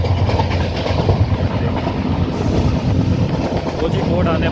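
Steady loud rumble and rattle of a moving passenger train on the Goa to Kerala coastal route near Kozhikode, heard from inside, continuous throughout with faint clickety-clack.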